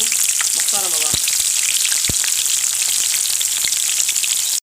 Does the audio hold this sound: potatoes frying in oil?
yes